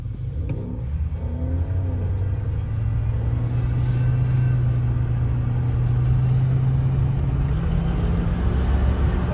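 A 1978 vintage car accelerating hard, its engine rising in a steady climbing drone that rumbles loud and close for the whole stretch, with no voices.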